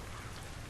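Rain in the video game Deadlight, a faint, even hiss of steady rainfall at night with no voices or other sounds.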